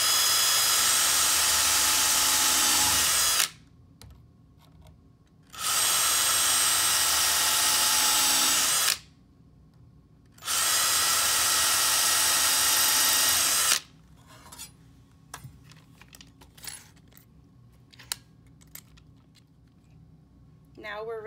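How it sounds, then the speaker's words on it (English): Power drill boring pilot holes into a wooden twin bed frame for a mending plate, three loud sustained bursts of whining motor separated by pauses, followed by quieter clicks and handling noises. "So first we're going to use our drill to make pilot holes."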